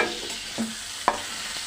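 Fried potato and pointed gourd pieces are lifted out of a pan of hot oil into a bowl, giving a faint sizzle under a few soft scraping stirs and one sharp utensil clink.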